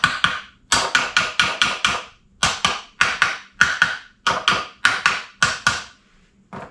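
Subaru oil pump being tapped down onto dowel pins during an engine rebuild, a close series of sharp hard taps in quick bursts of three to five, with short pauses between groups.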